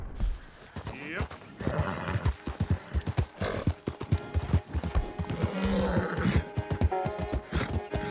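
Steady clip-clopping hooves of a ridden horse in Red Dead Redemption II, with a brief whinny partway through and someone talking over the riding sounds.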